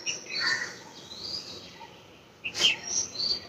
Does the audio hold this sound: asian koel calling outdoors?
yes